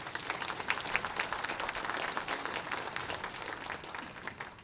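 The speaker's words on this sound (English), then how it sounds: "Let's give them a big round of applause again." Audience applause at a First Nations education symposium, a moderately distant, steady patter of many hands clapping that continues evenly throughout.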